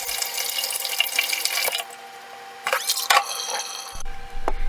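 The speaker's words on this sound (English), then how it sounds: "I like to quickly rinse it off with some water to get rid of any of the excess dirt." Running tap water splashing as mushrooms are rinsed under a faucet for a Korean doenjang jjigae, bursts of flowing water broken by brief pauses and small handling sounds.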